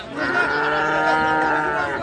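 Cattle low steadily at a cow market where medium-sized bulls are sold, a sustained harmonic moo filling the whole moment at close range with crowd noise faintly beneath.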